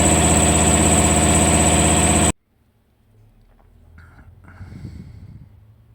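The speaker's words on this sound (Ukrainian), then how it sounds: "І дуже стрімко набирає компресор" A single-cylinder air compressor runs loud and close with a steady, even mechanical drone, then cuts off abruptly, leaving faint rustling and low clunks.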